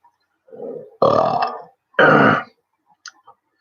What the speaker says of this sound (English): Well, that must have been Pepper Burp.